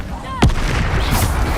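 The Bombarda explosion spell in Hogwarts Legacy goes off as a single loud blast with a sharp whistling lead-in, then a rushing debris rumble that fades out.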